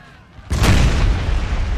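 A single heavy artillery cannon fires in Napoleon Total War, a sudden loud boom after a quiet moment, followed by a long rumbling roll of battlefield noise.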